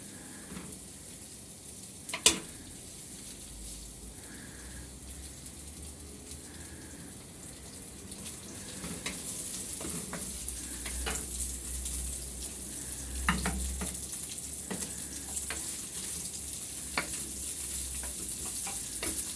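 Fat sizzles and fries in a pan on a home stove, a steady crackling hiss that swells after a sharp clank early on, with faint bubbling and occasional pops, close and alone without talk.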